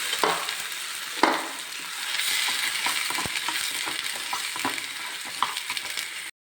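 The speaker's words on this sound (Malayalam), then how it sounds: "ഇനി നമുക്ക് ഈ അരച്ച് വെച്ച തക്കാളി കൂട്ട് അതിലേക്ക് ഒഴിച്ച് കൊടുക്കാം" Ground tomato paste for tomato chutney hitting hot oil in a pan, a sustained close sizzle with scattered pops and crackles and a few stirring knocks, steady throughout before cutting off.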